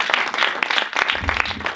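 Applause from an audience at a pitch session for regional film and audiovisual associations, with dense, steady clapping that runs through the whole moment and a low murmur of voices underneath.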